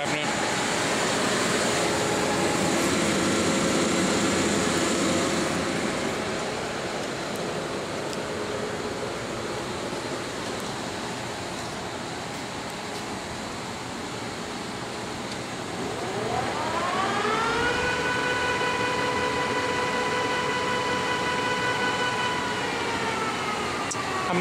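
A POREBA TPK-80/5M gap-bed engine lathe hums with a steady mechanical drone as its spindle turns, then the whine shifts pitch and rises as the spindle speeds up again, loud and close.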